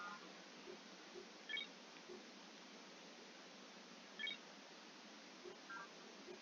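Telephone dialing tones in the computer strategy game Alpha Centauri: short, faint beeps spaced irregularly over a quiet, steady hiss.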